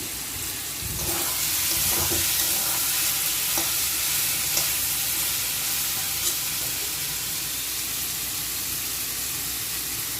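Spice paste for a flat bean curry is stirred and fried in a pan, making a dense, continuous sizzle with occasional soft scraping from the stirring, steady throughout and without speech.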